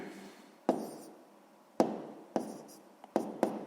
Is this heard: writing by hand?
yes